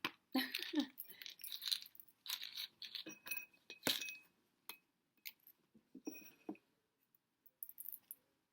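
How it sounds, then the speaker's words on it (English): Dry beans rattle and clink into a homemade plastic egg shaker, scattered irregular bursts of small hard taps and jingles, close and fairly quiet, with short silent gaps between pours. "I'm going to put some beans in there just to hear what it sounds like"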